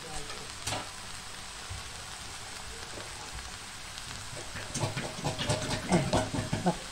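Onions dry-frying in a pan with no oil, giving a steady close sizzle that picks up with stirring and scraping near the end, with no voices.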